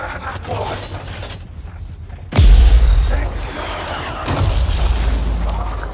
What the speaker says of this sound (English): Time to use that mortar.